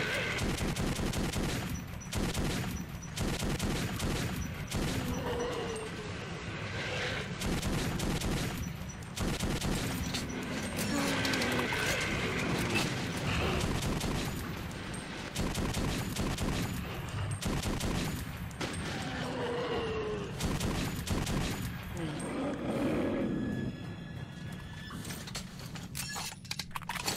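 Sustained gunfire in the video game Metro 2033 on Xbox 360: rapid automatic bursts and single shots crackle almost continuously, loud and dense, with mechanical clanks mixed in.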